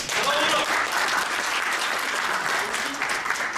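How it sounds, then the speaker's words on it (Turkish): Loud, continuous applause fills a hall at a JCI Türkiye Winter Summit debate competition, a dense wash of many clapping hands with a few voices mixed in. "Bravo, önce bir alkış"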